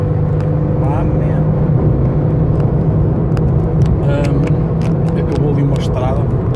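A loud, steady road rumble fills the cabin of a car driving on a road, with occasional passing traffic, continuous and close throughout.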